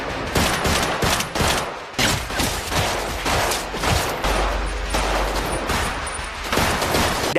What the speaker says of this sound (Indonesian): Lances menghujani musuh dengan peluru yang membuat Brook cukup kewalahan